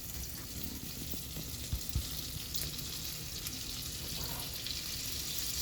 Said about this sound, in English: I'm going to put half a stick of butter in this pan and